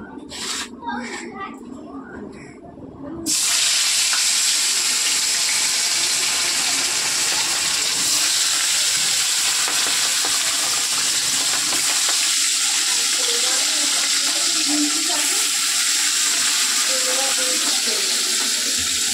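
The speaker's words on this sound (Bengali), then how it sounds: "তেল গরম হয়ে গেছে, আমি মাছগুলো ভেজে নিই" Fish pieces, rohu belly and small carp, frying in hot oil with a loud, steady broadband sizzle that starts abruptly and continues unbroken; a voice speaks briefly before the fish goes in.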